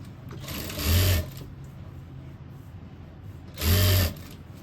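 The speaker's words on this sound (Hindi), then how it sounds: "अब इन दोनों को हमने साइड से सिलाई लगा लेनी है।" Two short bursts of a sewing machine stitching the side seams of a cord set, each about a second long and separated by a quiet gap, heard alone against a low background hum.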